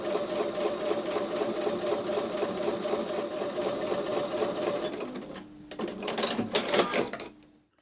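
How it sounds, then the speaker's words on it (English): A sewing machine runs a quarter-inch seam through quilting fabric, a steady rapid needle chatter for about five seconds, then a brief pause and a second short burst of stitching before it stops. "I'm going back over to the sewing machine to sew with a 1/4 inch seam"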